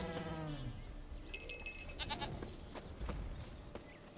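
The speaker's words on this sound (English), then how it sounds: "Defend the goat from the bear." A goat bleats in The Witcher 3, a short wavering cry at the start, followed by rustling and clattering game sounds at a low level.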